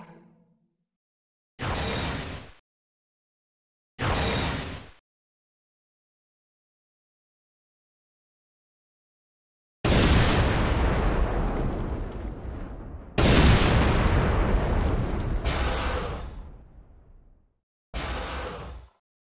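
Structures explode in the video game Command & Conquer: Renegade: two short blasts separated by silence, then a run of longer, heavy rumbling detonations, one after another, and a final short burst.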